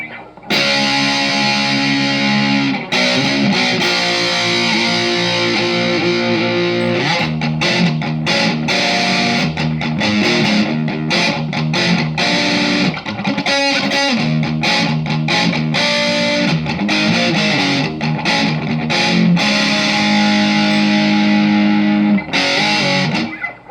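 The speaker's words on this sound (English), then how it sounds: "And now here is the metal muff, with all knobs except for the noise gate" An electric guitar played through a Metal Muff heavy distortion pedal with noise gate, thick buzzing chords and riffs with abrupt stops, loud and continuous throughout.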